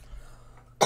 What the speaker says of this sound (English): I keep coughing and stuff